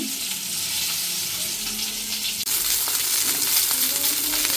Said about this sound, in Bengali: মাছ ভাজি হয়ে গেছে এখন নামিয়ে নিব